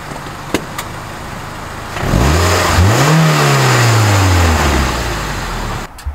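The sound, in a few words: car engine revving with exhaust crackle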